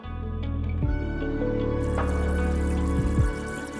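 Tap water runs steadily over a hand burned by a dropped aarti plate in a Hindi TV drama scene, a continuous close splashing stream with no talk.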